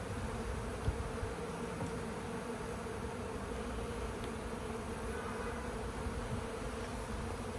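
A swarm of honey bees settling into a new hive, a steady dense buzz close by, faint but unbroken, with no one speaking.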